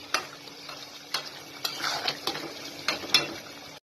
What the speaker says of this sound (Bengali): আরো কষাবো এটাকে।